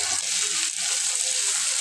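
Cooking oil pours into a heated tawa before mandeli fish is fried, a steady, close rushing hiss lasting under two seconds and then cutting off abruptly.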